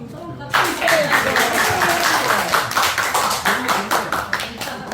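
A church congregation claps for a young soldier home on his first leave, a burst of many hands starting abruptly and continuing as brisk, fairly loud applause with a roomy, indoor feel.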